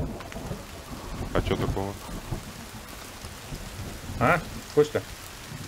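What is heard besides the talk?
thunderstorm with rain in video game The Forest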